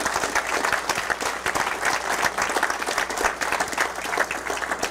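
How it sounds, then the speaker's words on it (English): An audience at a 2018 conference applauds, steady crowded clapping throughout, fairly close and even in level. "Let's just give them a round of applause real quick."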